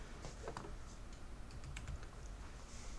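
Keys clacking on a computer keyboard as a short search term is typed, a quick run of light taps over a quiet room hum, no voices.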